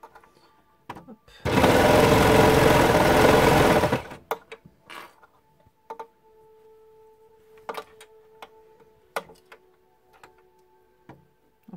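A Babylock N-Line overlock serger stitches a sweatshirt-fabric dress in one loud, fast, steady burst of about two and a half seconds, followed by scattered clicks and light handling sounds as the fabric is adjusted.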